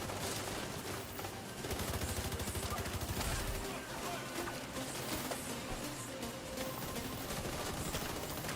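Heavy gunners firing machine guns in The Division 2, heard as sustained rapid automatic fire that rattles on across the whole stretch, with a voice talking over parts of it.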